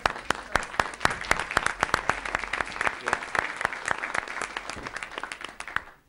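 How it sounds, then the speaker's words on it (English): An audience at a school district board meeting applauds, a dense, steady round of clapping that holds for several seconds before tapering off at the end. "let's give them a round of applause."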